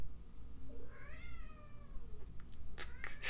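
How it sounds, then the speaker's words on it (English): A cat meows loudly in the background, one drawn-out rising and falling call followed by a few short sharp clicks, heard indoors with no talk over it. "My cat is just going crazy in the background."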